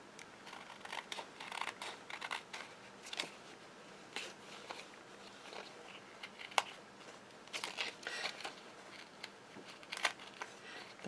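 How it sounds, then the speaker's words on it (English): Scissors snip and trim a paper stencil pocket while tape crinkles and sticks to the blades, producing irregular light cuts and rustling close by with no talking. "The tape is sticking to my scissors."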